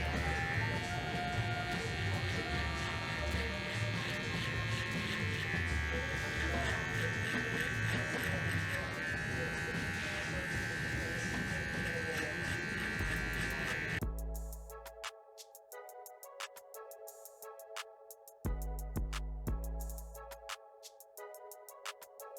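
Electric hair clippers buzz steadily as a barber cuts a taper at the bottom of a client's hair, a continuous drone that later breaks into short intermittent bursts as the clippers switch on and off.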